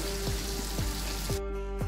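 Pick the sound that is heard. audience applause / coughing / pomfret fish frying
pomfret fish frying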